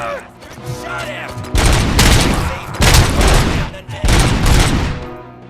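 Loud automatic gunfire in the RoboCop: Rogue City video game, three sustained heavy bursts after a brief lead-in with a voice, each burst close and punchy with short pauses between.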